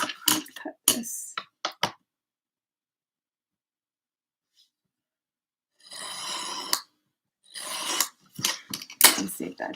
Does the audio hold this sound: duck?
no